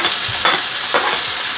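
Ginger and onions fry in a pan for a home-cooked mutton curry, a steady close sizzle broken by two brief scraping stirs, with no voices.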